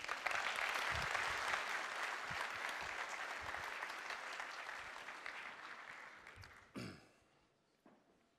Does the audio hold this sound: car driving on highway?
no